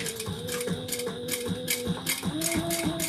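Sewing machine back stitching on a leather messenger bag, slow rhythmic mechanical ticks and thumps with short motor bursts, close and moderately quiet, no talking.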